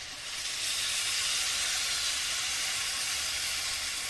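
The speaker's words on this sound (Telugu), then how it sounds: "పాలు పోస్తాను నేను టేస్ట్ గురించి పాలను పోసుకుంటాను" Milk poured into a simmering cauliflower curry in a pan makes a steady, airy hiss and sizzle that swells in and then holds evenly, close by with no talking.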